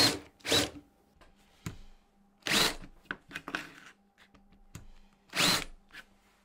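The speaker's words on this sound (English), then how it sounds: "To neaten up all these holes, I'm just gonna add a countersink to all of them." A power drill countersinks screw holes in a wooden TV stand, giving short, sharp whirring bursts spaced a couple of seconds apart, close and fairly loud, with faint handling noises between.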